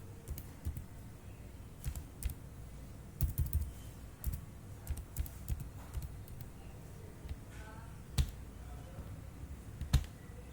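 Computer keyboard typing as a university name is entered into an online form, soft irregular key clicks in short bursts with pauses, close and fairly quiet, no talking.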